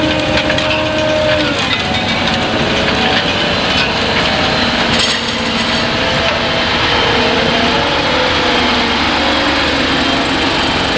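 A 2010 Ropa Tiger sugar beet harvester runs with a loud, steady engine roar and a mechanical whine, close up and continuous with no talking.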